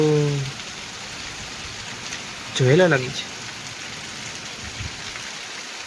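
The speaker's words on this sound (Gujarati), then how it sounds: "ભારે પવન સાથે ફૂલ વરસાદ આવી રહ્યો છે" Heavy rain with strong wind pours down in a dense, constant roar, with a brief voice speaking over it partway through.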